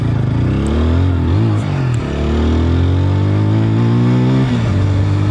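A 2025 TVS Apache RTR 160 4V motorcycle, running low on petrol, hums loudly up close while being ridden, its engine note rising and dipping as it accelerates and shifts.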